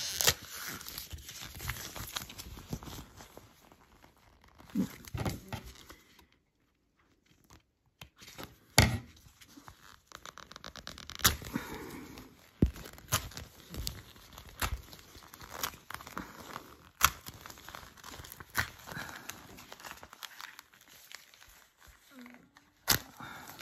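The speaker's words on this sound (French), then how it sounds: "Je vais détacher de l'hydrosoluble." Water-soluble stabilizer being torn away from finished 3D embroidery motifs, heard as close, intermittent bursts of tearing and crinkling with brief pauses between pulls.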